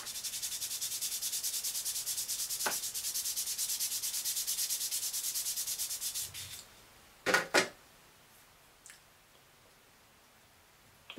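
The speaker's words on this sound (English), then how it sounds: "so let's get the sanding block" Steady, close scratchy rubbing of a sanding block on a clarinet reed for several seconds, then it stops, followed by a few light taps and clicks.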